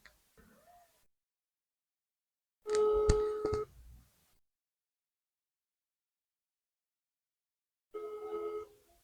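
Telephone keypad dialing tones sound in two short bursts, each about a second long, separated by silence, clear and alone with no talk.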